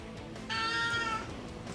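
A single drawn-out cat meow in the video game Europa Universalis IV rises clearly above quiet background hum, lasting under a second, fairly close.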